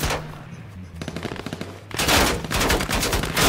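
Automatic gunfire in a three-player squad shooter video game, a dense rapid volley erupting loud and close in the second half after quieter scattered shots.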